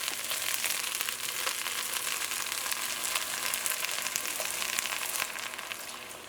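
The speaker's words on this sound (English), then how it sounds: "I want the rice to start frying up in here for a little bit before we add any other ingredients" Rice sizzles and fries in a pot, a constant bright crackling hiss that stays steady and close throughout, with no voices.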